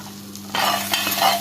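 A spatula stirs corn and melting cheese slices in a pan, giving a quiet background sizzle that turns into louder scraping and sloshing stirs partway through, with a low hum underneath.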